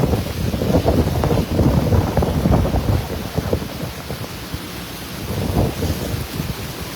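Heavy rain pours steadily during a flood in Pampanga, a loud dense roar with gusty wind buffeting the microphone throughout and no speech.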